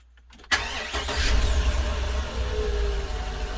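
A Workhorse motorhome chassis with its 8.1 Vortec engine, running with the alternator bypassed, cranks and fires after a quiet moment, then settles into a steady, loud idle close by with no talking.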